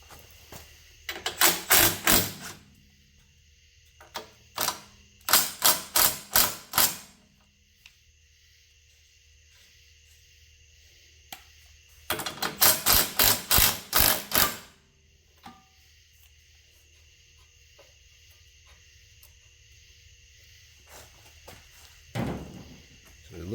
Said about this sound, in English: loosening these bolts up